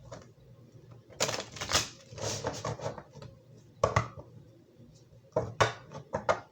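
Several bursts of tarot cards being riffled and shuffled up close, in quick clattering rounds separated by short pauses.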